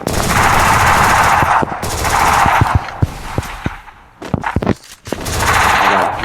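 Rapid bursts of SMG fire in the mobile shooter game Free Fire, several sustained automatic volleys separated by single sharp shots and brief gaps, loud and close.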